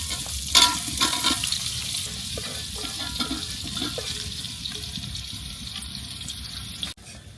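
Onions fry in hot oil in a village-style kitchen for Arabian chicken kabsa, giving a steady close hiss and sizzle with occasional stirring scrapes and clinks and no talk.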